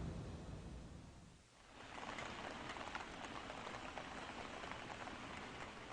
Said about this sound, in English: It's a rainy day in Miyazaki,